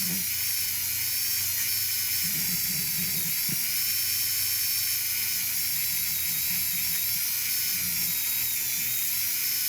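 A Dremel 4000 rotary tool, used for handmade Celtic trinity heart pieces, runs nonstop with a close, steady, high-pitched whine. Faint clattering and grinding contact noises sit underneath.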